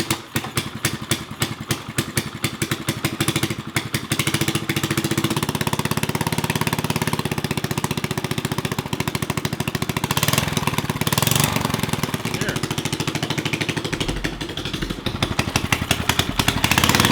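Vintage Briggs engine on a rat rod chopper-style mini bike idling loudly and close, with a rapid uneven putter throughout and a few throttle swells.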